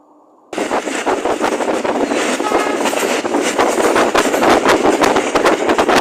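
Udaya Devi express train on the Batticaloa to Colombo line, rolling loudly on the rails after a brief quiet start, with a steady rumble and rhythmic clickety-clack close by and some wind buffeting.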